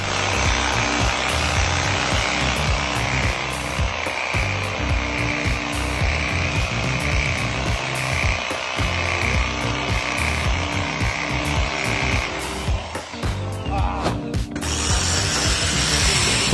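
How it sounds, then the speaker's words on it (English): A reciprocating saw cuts through aerated concrete blocks on a building site, giving a loud, steady buzzing rasp that runs without a break, then shifts and slows near the end before cutting off. "A reciprocating saw lets you shape aerated concrete blocks right on site"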